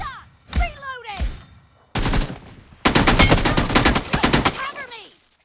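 Automatic gunfire in the BGMI mobile battle royale shooter, played on a Moto G05 phone, rattles in a long loud burst after a couple of single shots, with game voice callouts before and after.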